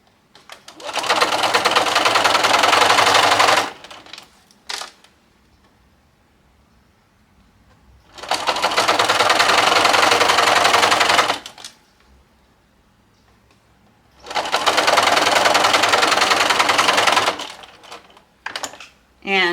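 Sewing machine stitching a lace hem on a bridal gown in an alteration studio: three loud, sustained bursts of rapid mechanical whirring, each lasting about three seconds, separated by quiet pauses with small clicks.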